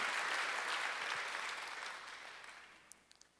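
A church congregation claps during a Sunday worship service: dense, steady applause that slowly fades toward the end, with a few last claps standing out.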